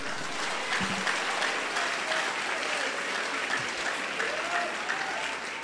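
An audience applauds at a church gathering, a continuous even wash of many hands clapping that carries on for several seconds, with faint voices murmuring underneath.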